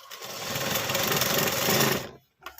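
A sewing machine stitches the falls onto a saree in a short, fast, steady whirring burst that runs for about two seconds, then stops abruptly, leaving a faint click afterward.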